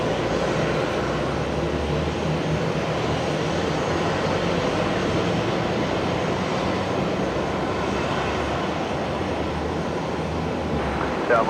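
A fixed-wing airliner arriving on runway 01 Left at Brisbane Airport gives a loud, steady, broadband engine roar that holds at an even level for the whole stretch, with no voices over it.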